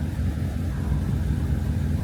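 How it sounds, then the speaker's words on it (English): A Proton Satria GTi engine idling roughly, heard as a steady low mechanical rumble close by with a slightly uneven, lumpy pulse and no voices over it. "It's idling a little rough, but it's idling."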